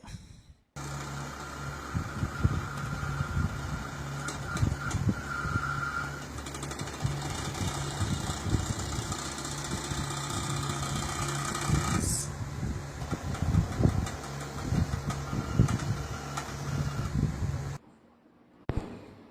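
Homemade axidraw-style CNC drawing machine running, a close continuous mechanical buzz and rattle of stepper motors with rhythmic knocking pulses, steady for most of the time before cutting off near the end.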